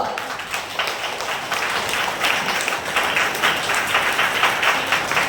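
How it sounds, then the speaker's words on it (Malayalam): Worshippers at a Sunday day-long retreat clap together during Eucharistic adoration, a dense, continuous patter of many hands filling the room at steady loudness throughout, with no voices breaking through. "അതാണ് കൈയടിച്ച് ദൈവത്തെ നമ്മൾ വെക്കുക"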